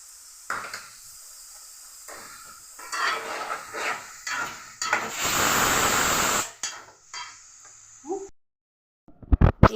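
Sliced onions with cumin seeds fry in a pan, soft sizzling punctuated by scraping stir strokes, swelling into a loud steady sizzle midway before fading to quieter clinks and brief bumps.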